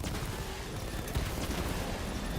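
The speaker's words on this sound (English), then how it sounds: "Yeah, like the 20mm cannon, or the 60, is it 60mm cannon?" A heavy cannon fires at a drone tank in the video game Batman: Arkham Knight, giving a dense, rumbling barrage of rapid blasts that runs throughout.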